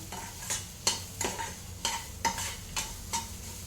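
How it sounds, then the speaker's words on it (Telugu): Food for coconut chutney sizzles lightly in a pan while a spoon scrapes and stirs in regular strokes, about two per second, close up. "ఇది లైట్గా ఇలా ఫ్రై చేసేసుకోవాలి"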